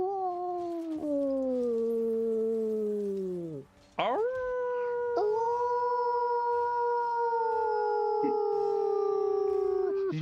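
A person imitates a wolf howl with long sustained voiced howls that slide downward, pause briefly, then rise again into another drawn-out howl, loud and close with little background.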